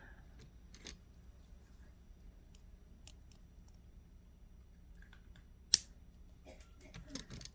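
Jewelry wire for beaded earrings is snipped with cutters, a single sharp close click near the end, following faint handling ticks and rustles.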